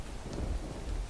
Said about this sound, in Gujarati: ખંભાળિયામાં વાવાઝોડા સાથે ખાબક્યો 3 ઇંચ જેટલો વરસાદ